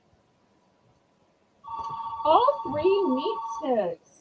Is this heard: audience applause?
no